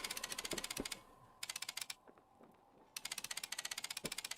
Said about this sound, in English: the typing sound effect was doing it in doubles